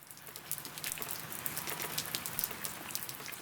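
Rain falls in Busan, a dense patter of drops tapping on surfaces with scattered sharper splashes, steady and fairly soft throughout with no voices.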